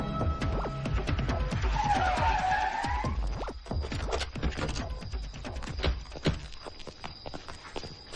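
Tires screech in a long skid as a car pulls up nearby, followed by a run of scattered clicks, scrapes and footstep-like knocks; no speech.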